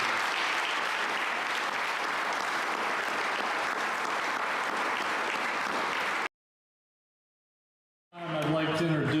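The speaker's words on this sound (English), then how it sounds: "let's have a round of applause for the" Applause from an audience at a college hall of fame ceremony fills a hall with dense, sustained clapping for several seconds, then stops abruptly; after a short silence a voice begins speaking.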